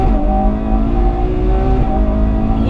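Ferrari 812 Competizione, a 2022 front-engine V12 supercar, revving hard while driven through a tight hairpin, a loud, continuous high-pitched engine howl with shifting tones, close and dominant, no talk.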